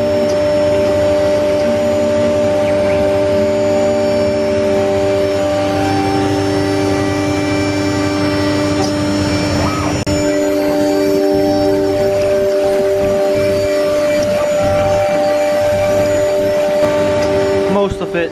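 A 2.2 kW water-cooled HF CNC spindle runs on its first start, a loud, steady high-pitched whine with strong tonal hum layered over constant machine noise for the whole stretch.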